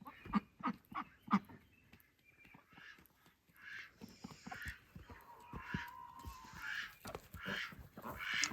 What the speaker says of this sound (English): There's all our ducks.